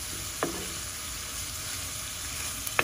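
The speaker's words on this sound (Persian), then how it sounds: "همه رو با هم تفت میدیم." Meat sizzles steadily while being sautéed in a pan with black pepper for Persian qeymeh stew, a constant frying hiss broken by two brief clinks of stirring.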